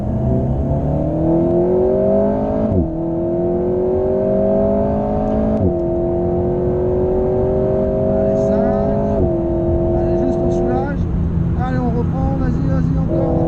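An Alpine car on a race circuit accelerating hard through the gears, a loud close engine drone rising in pitch with distinct gear-shift drops, while people talk over the engine noise from inside the car.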